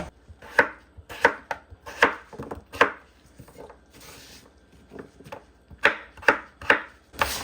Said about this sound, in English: we're just going to cube our potatoes